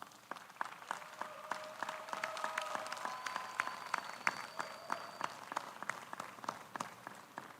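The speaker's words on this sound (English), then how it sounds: "Please join me in giving these remarkable graduates a round of applause." Graduation ceremony audience applauding the graduates at a commencement, a steady wash of clapping with sharper individual claps scattered through, moderately distant in a large hall, with faint tonal sounds briefly over it.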